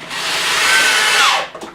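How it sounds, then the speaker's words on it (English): A power drill whirs steadily as it drives a screw into a wooden workbench door, the motor pitch rising and bending near the end before cutting off abruptly, followed by faint handling noise. "I just simply take my drill and make sure that's tight in there"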